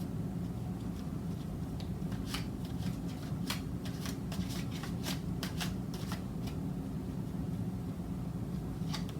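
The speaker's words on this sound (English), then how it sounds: "for shuffling of these cards" Tarot cards are shuffled by hand in a steady run of quick riffling snaps and flicks, heard up close over a constant low hum, with no one speaking.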